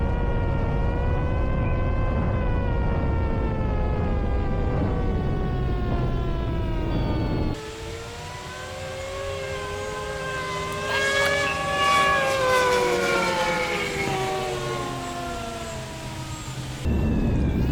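Homemade 3D-printed sirens mounted on a small airplane wail in flight in loud, rising and falling tones. The pitch wavers and sags as friction slows them, over the steady drone of the aircraft.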